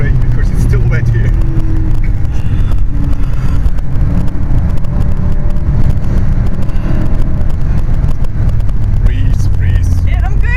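Ring Taxi rental race car at speed on a wet Nürburgring, heard from inside as a loud, steady engine drone with shifting revs and road rumble, while people talk over it throughout.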